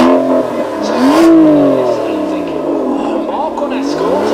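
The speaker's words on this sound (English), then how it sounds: "At V12 burbling away at the front, all the power to the rear wheels, and away we go" A front-mounted V12 rear-wheel-drive car at a supercar event revs up and accelerates away, its loud engine note climbing and wavering with a deep burble, close by, while a voice talks over it.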